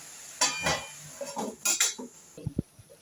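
A metal lid set down over a cooking pan of tangra fish curry in a home kitchen, a few close clinks and knocks of metal on metal, then quiet.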